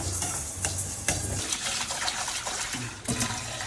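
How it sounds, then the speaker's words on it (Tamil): Water pours into a pan of roasted moong dal, a close, splashing gush that sloshes and bubbles in uneven surges, with no talk over it. "தண்ணி ஊற்றிடலாம்."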